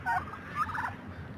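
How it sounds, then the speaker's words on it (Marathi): A brown turkey gobbling at a poultry farm, one quick warbling gobble close by, rising and falling over about a second, alone against a quiet background. "हे ब्राऊन कलरमध्ये टर्की आहेत."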